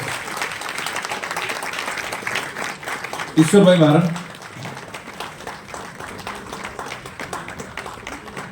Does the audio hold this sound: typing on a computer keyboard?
no